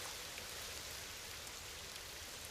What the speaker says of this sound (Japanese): ああ、雨ね。